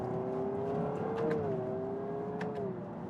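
Inside a Honda Prelude hybrid two-door sports car shifting down, a steady engine hum rises slightly in pitch and then eases lower, heard from the cabin with no talking.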